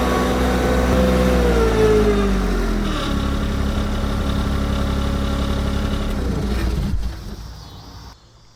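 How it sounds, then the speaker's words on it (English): Kymron XTL 30 machine running steadily while its boom arm shifts in float mode, a loud continuous engine hum with hydraulic strain that drops off sharply near the end. "You can see the arm, the boom arm, separating and adjusting from the body of the machine."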